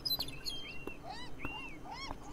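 Crow calls in the video game Beyond Eyes, a few short, faint rising-and-falling bird cries spaced across a quiet background.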